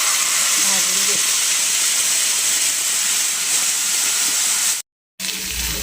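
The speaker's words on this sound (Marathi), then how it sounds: "रात्रीची जर भाजी शिल्लक राहिली तर आम्ही अशा पद्धतीने तव्यामध्ये तेल टाकतो आणि ती भाजी त्यामध्ये" Leftover vegetable curry fries in oil on a tawa with a loud, continuous sizzle and hiss, broken by a brief gap of silence near the end.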